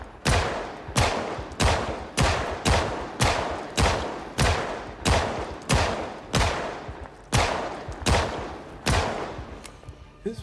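Pistol shots in the zombie survival game Project Zomboid, about a dozen sharp reports fired at a steady, evenly spaced pace, loud and close with no voices over them.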